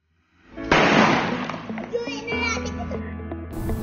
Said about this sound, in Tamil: இது வரி பிஜிலி. இதை நம்ம இப்போ டெஸ்ட் பண்ணுவோம், இதனுடைய குவாலிட்டி எப்படி இருக்குன்னு சொல்லிட்டு நம்ம பார்த்துருவோம்.